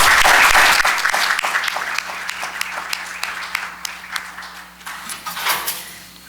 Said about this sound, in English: I ask you to join me in a round of applause for both candidates